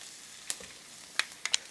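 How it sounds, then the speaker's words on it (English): Onion and pepper sauté in oil on an E-Series griddle, with a soft background sizzle and a few sharp, close pops and crackles spaced irregularly. "Now we're just going to saute this down for a few minutes until it gets nice and soft."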